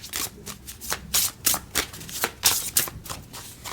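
A deck of zodiac sign cards is shuffled by hand, making a close, rhythmic series of papery riffles and slaps at a steady pace.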